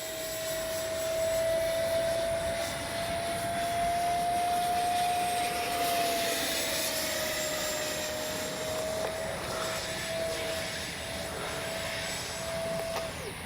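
A Freewing 70mm F9F Panther RC jet flies with its electric ducted-fan motor running, giving a steady, sustained whine with a constant high tone that holds throughout at moderate loudness.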